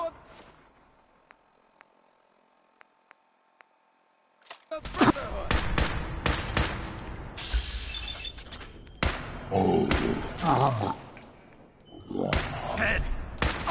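Gunfire in Fallout 4: a few faint ticks over near-silence, then loud, close bursts of shots erupt and keep going, with shattering impacts and shouted voices mixed in.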